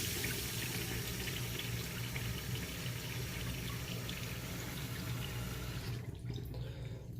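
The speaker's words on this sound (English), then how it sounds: "The water is coming." Water rushes steadily through a repaired Sloan urinal flush valve, a continuous close hiss and gush that drops off abruptly near the end.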